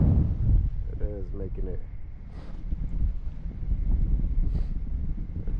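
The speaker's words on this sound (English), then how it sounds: "That wind's really picking up now." Strong wind gusts across an open frozen lake during ice fishing in Washington State, a steady low roar buffeting the microphone throughout, with a voice speaking briefly over it near the start.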